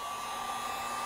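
A heat gun or hair-dryer-style heater warms the piston of a BMW R90/6 boxer engine, a steady close airflow hiss with a constant motor whine.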